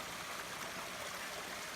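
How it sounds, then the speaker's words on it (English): A mountain stream on the Jenkins Ridge Trail in the Smoky Mountains flows with a soft, even rush, faint and constant with no voices over it. "Sit here and listen to the stream."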